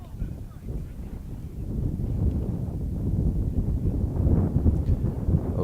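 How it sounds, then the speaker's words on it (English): Strong gusting wind buffets the microphone at an outdoor high school baseball game, a steady low rumble that swells louder toward the end, with faint crowd or announcer sound beneath. "Oh, there's a good gust."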